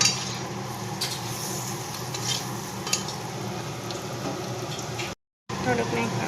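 Potatoes, parwal and vegetables are stirred in a cooking pot with chili and salt added, giving a steady scraping, sizzling churn that runs continuously with a brief gap near the end.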